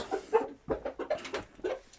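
Hens clucking close by in a farmyard, a quick run of short soft clucks in uneven bursts with no talk.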